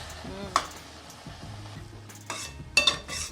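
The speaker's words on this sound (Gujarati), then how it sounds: "આ રીતે આમ છે ને સાઈડમાંથી બધું ઉખડતું જવું પડે મલાઈને બધું પાછું ચોટતું જાય એટલે આ જાડી કડાઈ લેવી પડે" A spoon scrapes and stirs carrot and beetroot halwa in a thick kadai, giving soft sizzling with a few sharp metallic scrapes and knocks spread through the clip, and no talk over it.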